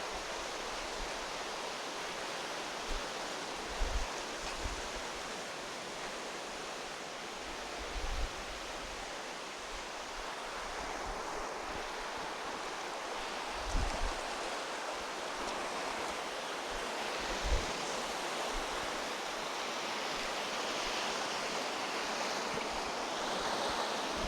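Water rushing over rocks at an aruvikarai (waterfall) spot, a loud, steady broadband roar with a few faint low thumps, continuous throughout with no voices.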